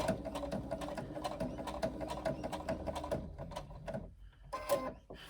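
A sewing machine stitches a handbag connector piece in fast, steady mechanical bursts, pausing briefly near the end before a short final run, close and clear.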